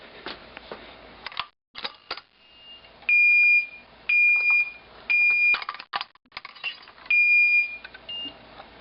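Home fire alarm system beeping while being re-armed: a series of four loud, evenly spaced sustained electronic tones, each about half a second long, preceded by quieter clicks and short chirps.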